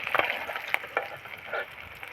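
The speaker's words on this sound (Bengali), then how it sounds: "মাছগুলো আমি একইভাবে ভেজে নেব।" Fish pieces sizzle in hot oil in a pan, a bright crackling hiss with a few sharp pops and spits, steady and close.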